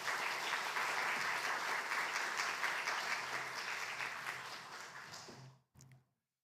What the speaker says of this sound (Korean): 우리 함께 박수로 인사합니다.